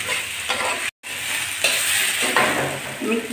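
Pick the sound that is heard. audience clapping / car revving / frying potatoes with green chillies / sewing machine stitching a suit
frying potatoes with green chillies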